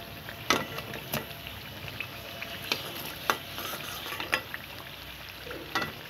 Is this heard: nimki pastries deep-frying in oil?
yes